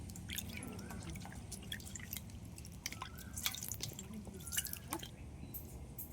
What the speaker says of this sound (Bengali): আমটা তো গরম খুব, একটু জলের মধ্যে দিয়ে আগে ঠান্ডা করে নেব।